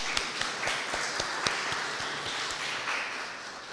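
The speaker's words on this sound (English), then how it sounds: "So let us give her another round of applause." An audience claps steadily at a live youth parliament launch event, a sustained, moderately loud round of applause with no talking over it.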